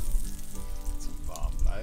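Roast beef sizzling on a barbecue grill, a short burst of steady frying hiss with low thumping underneath and a faint tonal background layered over it.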